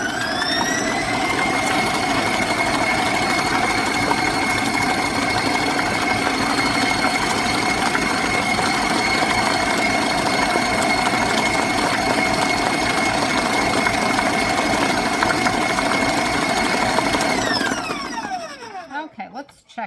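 An electric mixer beats butter icing on high speed with a steady, even motor whine that runs unbroken for about seventeen seconds before winding down and stopping.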